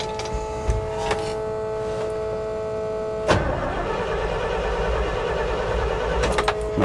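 An old Chevy Luv truck engine, with the choke being worked, cranks and catches around the midpoint, then runs at a rough, steady idle close by, with no talking.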